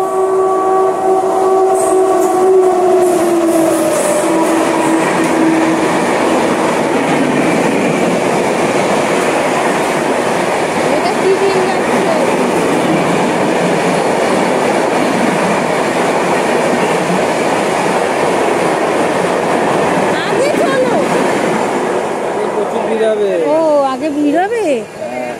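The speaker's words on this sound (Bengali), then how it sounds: "ট্রেন আসছে" A train passes close by, opening with a long, loud horn blast and then a steady rumbling clatter of wheels on the rails, with a second horn near the end and voices talking over it.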